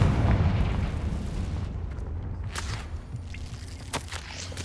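A Confringo blasting spell explodes in Hogwarts Legacy with a loud, rumbling boom that fades out over several seconds, followed by a few scattered sharp pops and debris sounds.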